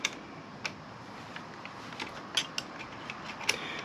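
Bolt on a 2023 Kawasaki Z900 being worked loose with a ratchet, faint sparse ticks and clicks at uneven intervals over a quiet background, no talk.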